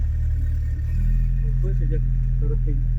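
A car's engine idles just after starting, a steady low rumble close by, while people talk over it.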